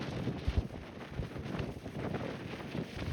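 Gusty wind buffets the microphone on an exposed Arizona hiking trail above Roosevelt Lake on a cold, rainy day, a steady low rumble with a few harder thumps early on, with no talking.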